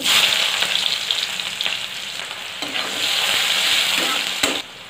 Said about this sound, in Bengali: কড়াইতে অল্প সরষের তেল দিয়ে দিচ্ছি। পাঁচফোড়ন, পেঁয়াজ কুচি,